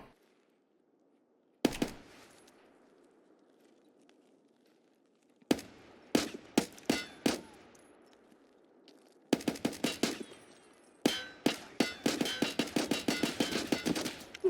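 Gunfire in the video game Escape from Tarkov: sharp, loud shots separated by silence, first single cracks, then quick clusters and finally rapid bursts that echo and trail off between volleys.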